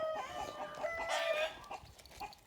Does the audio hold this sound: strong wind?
no